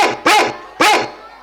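A dog gives two sharp, loud barks close by, spaced about half a second apart, each fading quickly.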